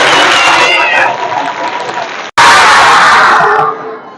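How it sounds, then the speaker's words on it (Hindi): Children give their teacher a loud round of applause, a burst of energetic clapping mixed with excited shouts and squeals, cutting off briefly then surging back before fading. "तो एक बार अपनी मैडम के लिए जोरदार तालियां"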